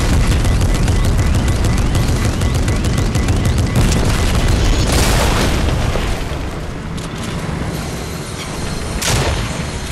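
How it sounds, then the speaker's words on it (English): Rockets firing and exploding in Fortnite, a loud, dense barrage of booms and blasts that runs continuously, with sharper bursts standing out and a brief lull near the end. "We have people shooting rockets at us."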